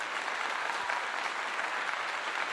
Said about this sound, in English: I'm giving them a clap for that again.